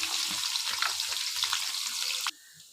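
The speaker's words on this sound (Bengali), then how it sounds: "পেঁয়াজটা আমি লাল লাল করে ভেজে নিচ্ছি" Sliced onions with green chilies fry in oil on a clay stove, giving a dense, close sizzle with stirring scrapes that cuts off abruptly near the end, leaving quiet.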